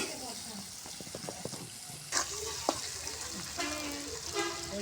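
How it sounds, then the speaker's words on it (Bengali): Pui shak greens, kochu mukhi and potato fry in a pan with a soft sizzle, broken by scraping stirs and clattering knocks from the utensil, while a voice speaks faintly now and then. "এটা সুন্দর করে ভাজে নিই।"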